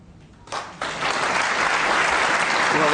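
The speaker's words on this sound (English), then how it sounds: "Well, applause for that" Applause from a snooker crowd at a tournament, starting quietly, then swelling suddenly into a broad, sustained round of clapping that holds strong to the end.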